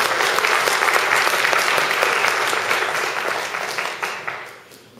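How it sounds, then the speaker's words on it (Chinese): A church audience breaks into sustained applause to welcome a speaker to the front, steady dense clapping that fills the room and tapers off toward the end. "我们请欢迎他，拍手欢迎他来跟我们"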